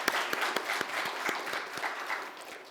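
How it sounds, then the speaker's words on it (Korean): Congregation applauding in a church during a Sunday worship service, a steady patter of many hands with sharper individual claps standing out, sustained throughout at moderate distance. "크게 영광의 박수를 돌리겠습니다."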